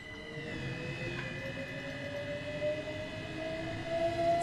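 A Class 377 London commuter electric train runs in the Train Sim World 5 game, with a steady rumble under a rising electric motor whine that climbs in pitch as it accelerates; no talking.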